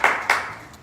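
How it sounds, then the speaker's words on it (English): Two sharp claps close together at a political debate between candidates Tina Polsky and Mindy Koch, fading quickly with no voices. "Let's have a big round of applause for Mindy Koch and Tina Polsky."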